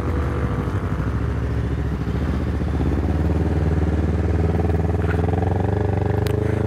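A Honda CBR250RR motorcycle rumbles steadily as it turns around, its close engine a continuous low throb with mechanical clatter, holding an even level throughout with no talking.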